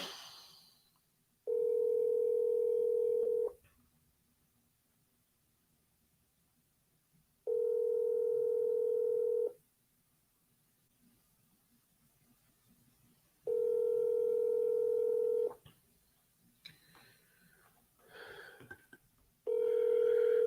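A telephone ringback tone on outbound sales calls, repeating in long steady tones about every six seconds, with a short burst of other noise near the end.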